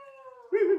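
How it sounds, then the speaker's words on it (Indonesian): A Pelung chicken crows inside a cave, a single drawn-out, tonal call that rises into a louder, rougher ending, heard fairly close and clear against a quiet background. "oh, itu ayam pelung."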